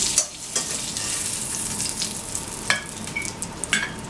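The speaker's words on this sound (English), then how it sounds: "I'm going to cook the remaining steaks the same way." Salisbury steaks frying in a pan, a steady close sizzle with occasional sharper crackles and pops scattered throughout.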